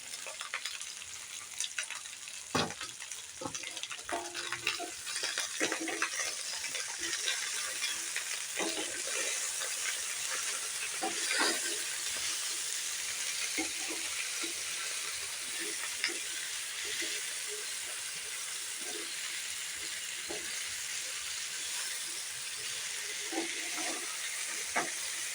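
Drumstick, long beans and sweet potato fry with salt in a pan for shukto. A steady loud hiss and sizzle runs throughout, broken by scattered clicks of stirring and scraping close by.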